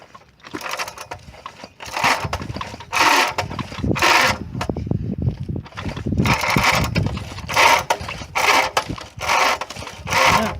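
The engine of a Lawn Boy Hobby Gardener rototiller is cranked repeatedly: loud, close, rhythmic mechanical pulls and whirring strokes in quick succession, without catching.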